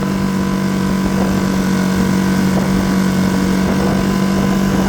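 A Mercury 3.5 outboard motor pushes a Quest Angler 10 boat at cruising speed, its small engine droning loud, close and steady throughout with a constant low hum and no voices.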